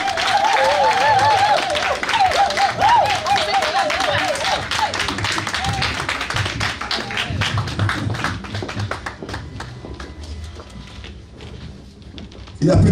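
A large seated audience at a gala evening in Paris breaks into sustained, dense applause, loud and continuous, with music and scattered voices underneath before it thins toward the end.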